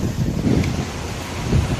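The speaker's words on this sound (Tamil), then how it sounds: "அதனால் வந்து இங்கே மெயின் ஃபால்ஸில் அருவியில் தண்ணி கொட்டுது" Water pouring down Courtallam main waterfall, a steady loud broadband rush with no breaks, heard alone.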